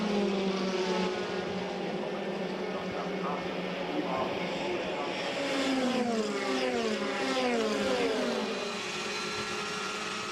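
WTCC touring race cars, Honda and Chevrolet, racing through turns in the 2013 season, engines rising and falling in pitch as cars pass, moderately loud under a commentator's voice.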